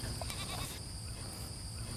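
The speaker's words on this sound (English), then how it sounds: "These guys are called Myotonic Goats, or Tennessee fainting goats is another name for them." Myotonic goats, also called Tennessee fainting goats, bleat in a farm setting, a short nasal call heard briefly over steady background noise.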